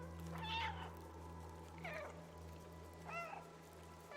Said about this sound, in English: And you can meow. You can meow a lot.